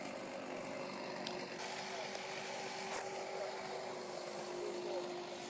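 A vacuum runs steadily while collecting European hornets from a nest in a tree trunk, a constant loud motor drone with a faint steady whine and no clear speech.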